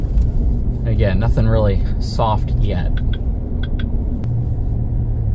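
A 2023 Chevy Silverado ZR2 Bison truck in four-wheel drive high rolls through sand, its engine giving a steady low rumble throughout, with someone talking over it for much of the time.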